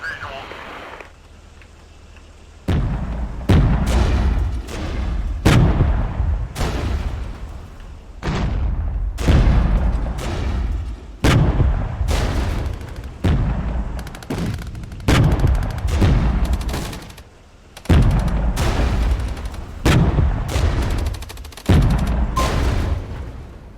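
Battlefield gunfire and artillery in the real-time tactics game Regiments: a long sequence of sharp, heavy booms and shot bursts in uneven rhythm, some near and loud, others duller, with a voice speaking briefly.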